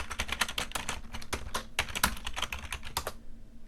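Quick, close keystrokes on a computer keyboard, a fast irregular patter of clicks that stops abruptly near the end.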